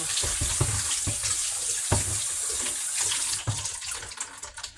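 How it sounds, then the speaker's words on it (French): Cucumbers being rinsed under a running kitchen tap, with a steady rush of water splashing into the sink. The stream is loud and continuous and changes tone near the end as the flow shifts. "Je vais rincer mes concombres."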